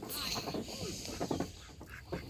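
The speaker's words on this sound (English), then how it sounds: "What noise are they making? Quack, quack." Duck quacks mixed with a busy outdoor background at an animal farm park, several short nasal calls spread across the clip at moderate distance.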